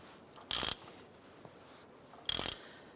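Two short bursts of ratchet clicking, close and crisp, with a quiet pause between, as a ratchet tightens a bolt on a front control arm.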